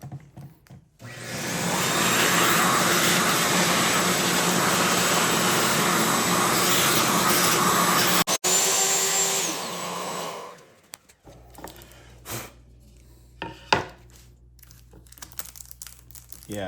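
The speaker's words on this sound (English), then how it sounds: "Ooh, I did not have the vacuum on." A household vacuum cleaner runs loud and steady for about ten seconds while working into the corners of a home project, then cuts off, leaving faint handling noises and rustling.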